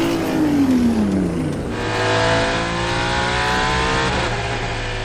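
Hypercar prototypes lap during WEC qualifying at Qatar, one loud near car with a falling engine pitch as it passes, then another engine climbing through gears, high and piercing with no talk.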